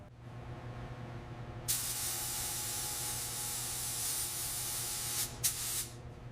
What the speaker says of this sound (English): applying the original factory black coat to its hood panels